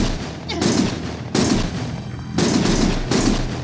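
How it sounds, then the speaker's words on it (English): Gunshots in the video game Lost Judgment, several loud bursts of firing in separate volleys with short pauses between them. "Stop shooting!"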